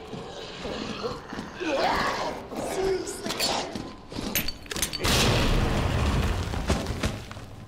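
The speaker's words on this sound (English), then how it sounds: "That is a well played grenade." A grenade explodes in the Resident Evil 2 video game, a loud, broad blast that rolls out over several seconds, followed by scattered thumps and crashes.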